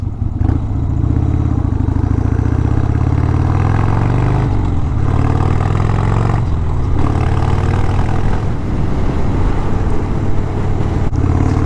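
A Harley Sportster Scrambler motorcycle engine runs loud and close throughout, a steady rumbling idle with small swells in pitch and power, and no talking over it.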